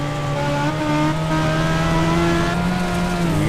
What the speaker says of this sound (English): You hear him getting into the gas a little bit there.